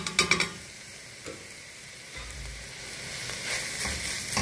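Spring roll filling with masala being sautéed in a pan, with a soft steady sizzle and a few sharp stirring knocks near the start.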